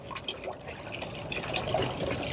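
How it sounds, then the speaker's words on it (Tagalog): Water is poured into a container for puppies, a soft splashing trickle that stays faint and continuous for a couple of seconds. "Dagdagan pa natin ng tubig."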